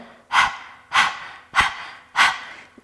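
Four forceful nasal exhales from a yoga dog-breathing exercise, evenly spaced about two-thirds of a second apart, each a sharp, close, breathy snort that fades quickly.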